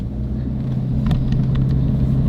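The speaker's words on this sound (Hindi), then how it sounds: "अरे ये कौन सी गाड़ी आ गई?" A motor vehicle passes by outdoors with a deep, steady rumble that swells slightly, close and constant.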